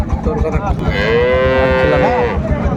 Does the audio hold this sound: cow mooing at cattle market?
yes